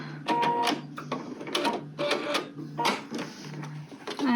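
Sewing machine stitching a pine needles project bag, a series of short mechanical whirring bursts with pauses between, close and fairly quiet.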